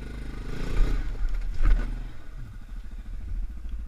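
A tall quad bike's engine revving as it builds speed to cross an obstacle, a close, rough motor roar that swells and then settles into a steady, pulsing drone.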